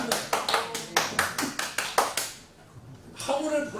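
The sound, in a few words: congregation clapping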